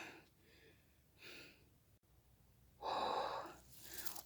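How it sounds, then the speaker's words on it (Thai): Heavy, labored panting from a person walking downhill while foraging for mushrooms after rain, a few loud gasping breaths close to the microphone with no talk. "หอบมากเลยตอนนี้"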